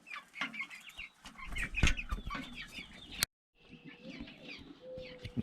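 Meat bird hens cluck and chatter in a farmyard, with several birds making soft, overlapping clucks at moderate distance and a short silent gap partway through.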